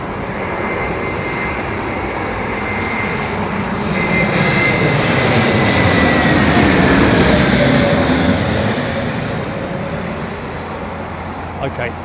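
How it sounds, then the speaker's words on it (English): Jet airliner of Air Peace on its first flight with the airline, heard at London Heathrow Airport: a loud, continuous engine roar that swells to a peak near the middle and then eases off, with faint talk in the background. "Okay, it's this aircraft's first flight with Air Peace."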